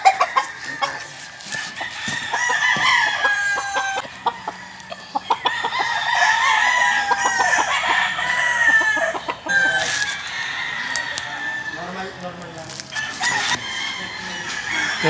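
Gamecocks of pure Super Sweater bloodline at a game farm crow repeatedly, several birds overlapping near and far, with clucking between the crows and a steady rural background.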